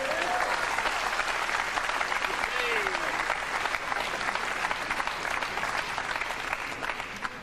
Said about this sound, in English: Crowd here in Cardiff giving Steve Davis every form of encouragement.